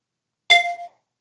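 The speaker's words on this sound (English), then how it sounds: "My test beep, my phone beeps." A phone gives a single short notification beep, a bright metallic ding that rings briefly and fades in under half a second, alone in silence.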